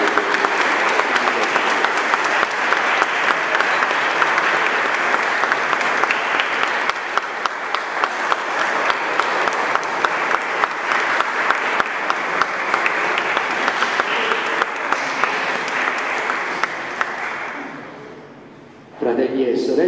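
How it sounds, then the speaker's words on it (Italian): Guests at a Christian church wedding applaud the newly married couple, a long, dense and loud round of clapping that keeps going for many seconds, then fades out and stops near the end. "facciamo un bel applauso"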